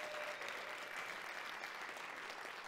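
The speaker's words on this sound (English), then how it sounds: "Let's give that a round of applause." Audience applause at a community talk on food, culture and economy: a continuous wash of many hands clapping, fairly distant and soft, steady throughout with no voices.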